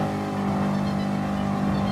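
A Ford Mustang Mach 40 race car engine in Gran Turismo Sport drones at a steady, loud, sustained pitch, the car holding speed without breaks or passing voices.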